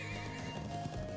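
A horse whinnies loudly in the video game Trails of Cold Steel, a single drawn-out neigh heard up close with no talk over it.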